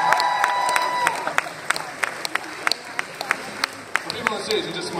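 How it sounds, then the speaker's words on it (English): A crowd applauds at a hypnosis stage show, scattered sharp claps over a steady murmur, moderately loud, with someone talking over it. "Let's give them one more great big round of applause"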